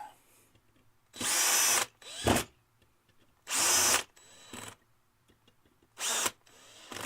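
A power tool driving screws into an airsoft gearbox, whirring loudly and up close in three short separate bursts with quiet pauses and light handling noises between them.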